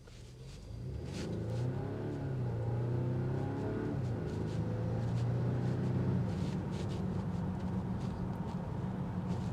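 A 2026 Volvo XC60 T8 Black Edition plug-in hybrid with 455 horsepower accelerates hard, its engine note rising steadily through the gears into a sustained, fairly loud drone heard up close.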